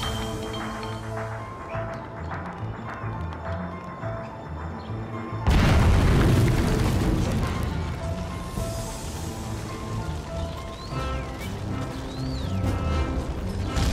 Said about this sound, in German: Meine Ohren pfeifen noch von der Explosion.